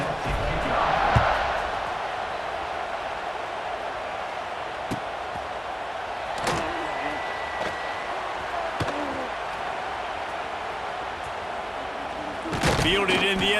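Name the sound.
football stadium crowd cheering at kickoff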